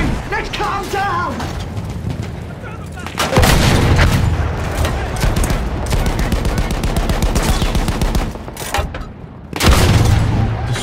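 Dense gunfire in the World War I shooter Battlefield 1, loud rapid bursts of rifle and machine-gun fire with heavy booming blasts, nearly continuous, with a voice talking over it in places.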